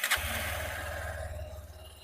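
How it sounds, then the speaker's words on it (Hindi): A Honda Hornet 2.0 motorcycle engine cranks and catches in a short burst, then settles straight into a steady, close, fairly loud idle with an even low throb. "तो बाइक को करते हैं स्टार्ट।"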